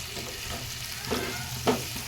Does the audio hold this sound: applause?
no